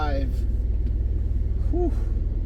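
A twin-turbo car engine holds a steady, deep rumble throughout, with faint voices in the background.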